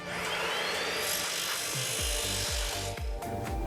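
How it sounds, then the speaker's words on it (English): A carbide-toothed woodworking saw cuts through aluminum T-track: a loud, continuous power-tool roar with rhythmic low thumps as the cut progresses. "the aluminum T-track cuts with normal carbide woodworking tools"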